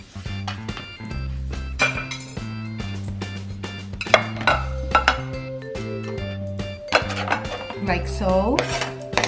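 Sliced beef for fajitas goes into a bowl, with dishes and utensils clinking and scraping nearby, ringing metallic tones over steady background music.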